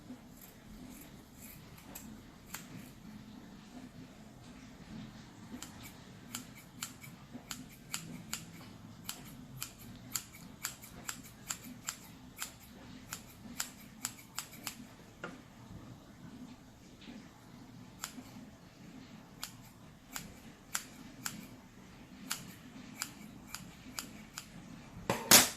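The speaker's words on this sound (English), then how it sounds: "We cut the dress a little." Scissors snipping fabric for a doll dress, dozens of crisp close cuts in uneven runs, brief pauses between bursts, over a quiet room hum.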